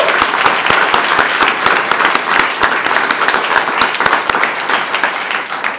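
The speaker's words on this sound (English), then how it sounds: "So let's give them a round of applause, please." A festival crowd at a rally gives a round of applause, loud and close, with dense clapping from many hands and a few sharp distinct claps standing out, continuing steadily for several seconds.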